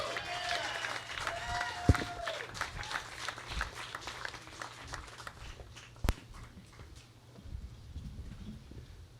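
Comedy club audience applauding a comedian at the end of a set, a steady patter of clapping with scattered cheers and talk mixed in, thinning out toward the end.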